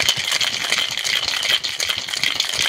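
A cocktail shaker with its top on is shaken hard, making a fast, continuous rattle of ice for a few seconds, close and loud with no talking.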